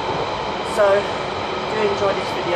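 A London Underground train runs with a steady rumble and short wheel squeals while someone talks over it.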